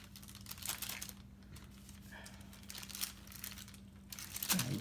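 Sterile glove packaging being unwrapped during wound care practice, soft close paper crinkling and rustling in scattered bursts over a low steady hum, with no speech.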